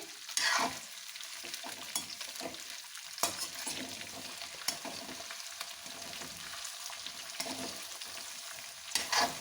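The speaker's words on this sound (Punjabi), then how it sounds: "ਹੁਣ ਅਸੀਂ ਇਹਨਾਂ ਨੂੰ ਮੀਡੀਅਮ ਜੀ ਫਲੇਮ ਤੇ ਚੰਗੀ ਤਰ੍ਹਾਂ ਨਾਲ ਭੁੰਨ ਲਾਂਗੇ" Cauliflower and carrots for a Punjabi-style pickle roast in a pan over a medium flame, a steady close sizzle broken by repeated scraping stirs and a few sharp clinks against the pan.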